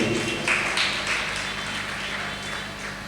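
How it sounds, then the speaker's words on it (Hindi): An audience applauding at a Jain religious gathering, heard as a steady wash of many hands clapping at moderate loudness, fairly even throughout with a few sharper claps near the start. "आइए ताली बजाओ बहन के लिए"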